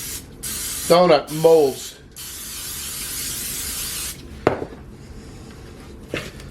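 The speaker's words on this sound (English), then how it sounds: "So I'm gonna spray. I only have to spray about 6 of these" Cooking spray hisses in a broad burst for about two seconds onto a mini donut tray, loud and close, with brief clicks and a sharper spray later; a person speaks briefly at the start.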